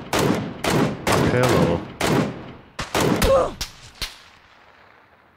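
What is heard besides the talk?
gunfire in PUBG video game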